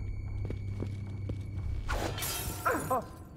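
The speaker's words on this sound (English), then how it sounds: "That sounded like broken glass." Glass shattering in the game Dishonored: Death of the Outsider, a loud bright crash with tinkling shards falling after a few dull footsteps and thumps, no talking.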